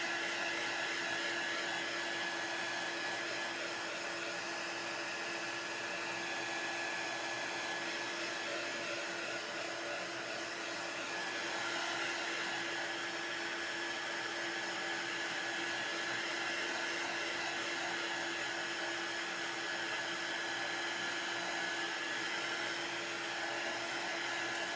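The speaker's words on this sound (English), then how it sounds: "if you're using a heat tool like this, keep it moving. You don't want to burn your transfer." A heat tool blows steadily over a chalk transfer on a wooden farm stand sign, a continuous loud, close whoosh that holds even throughout without pauses.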